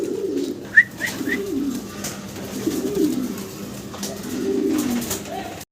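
A pair of local Deshi Golla pigeons coo nearby in low, throaty pulses that repeat several times over a quiet market background.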